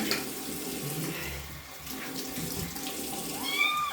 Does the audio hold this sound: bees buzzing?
no